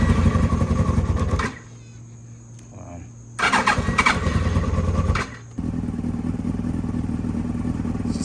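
Motorcycle engine started with the choke held, running in bursts: it fires and revs loudly, cuts out to near silence, catches again briefly, dies, then settles into a steady idle, with voices heard over it.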